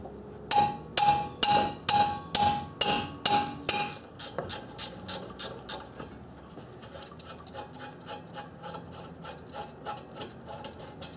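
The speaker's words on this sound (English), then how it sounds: "strike the end with the 3-pound hammer" Sharp metallic strikes of a 3-pound hammer on a wrench during Honda Accord brake work ring out in a steady rhythm, loud at first, then quicker and lighter taps continue to the end.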